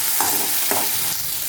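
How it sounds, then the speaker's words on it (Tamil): Chutney ingredients sautéing in a pan, a steady close sizzle with two or three soft scraping stirs of a spoon through the mixture. "நல்லா அதை ஒரு பிரட்டி விட்டுக்கலாம்."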